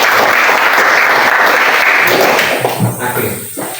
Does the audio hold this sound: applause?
yes